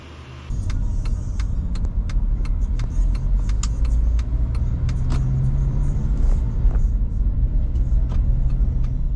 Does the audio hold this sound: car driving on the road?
yes